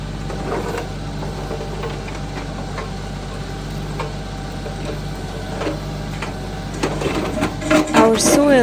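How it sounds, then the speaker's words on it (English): A small tractor digs fence post holes in rocky clay soil, its engine droning steadily with knocking and ticking, then straining louder near the end as scraping and grinding build up. "Our soil is mostly rock and clay, so our small tractor is struggling to do the job, but it's doing it."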